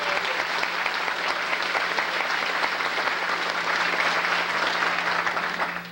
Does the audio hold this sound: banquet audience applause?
yes